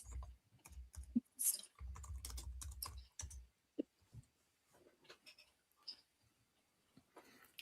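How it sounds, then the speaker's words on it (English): Bursts of typing on a computer keyboard, with clusters of quick clicks and pauses between them, fairly close and moderately loud, no talking. "while Sharda's typing in"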